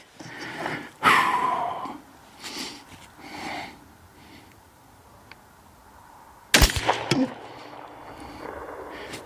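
Two loud rifle reports several seconds apart from a .308 BCA upper firing Match King bullets over IMR 4895 powder, each a sharp crack with a rumbling tail, separated by quiet breathing and faint background noise.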